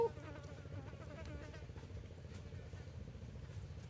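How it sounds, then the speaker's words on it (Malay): A low, steady engine drone hums throughout, faint and somewhat distant, from a large boat running on open water, with a muffled voice underneath. "Bunyi bot."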